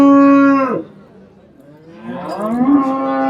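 A dairy cow at the Qarshi cattle market in Kashkadarya lets out two loud, close moos, a long drawn call that fades, then a second rising bellow.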